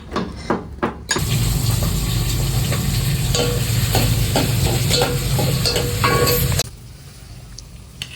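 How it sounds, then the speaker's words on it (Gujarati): A pan sizzles and crackles steadily for several seconds as peas fry, with faint stirring clinks, then the sizzle drops away to quiet. "હવે વટાણા તળવાના"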